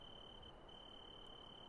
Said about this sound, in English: You can hear those crickets. That is from a mod called Charmonium.